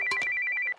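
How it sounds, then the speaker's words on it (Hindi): A telephone ringtone chirps in a quick run of bright, evenly pulsed electronic tones, loud and close, then cuts off abruptly. "ये फोन तेरी निशा का ही होगा"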